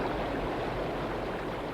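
Water running from a tap in a town, a loud, steady rushing hiss that holds unbroken throughout with no other sounds.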